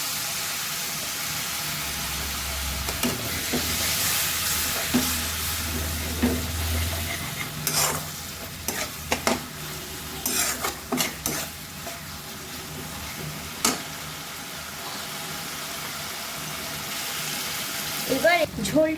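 Bengali-style duck egg curry sizzles steadily in a pan as water is added and the eggs are stirred in. Soft frying hiss runs underneath, broken by intermittent scraping clinks of a spoon against the pan.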